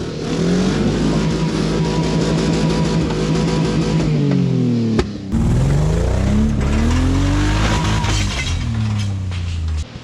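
Engine of a 2001 Nissan Pathfinder R50 yard truck driving off-road, loud and close, its drone rising and falling through gear changes and revs with rattling and bumps.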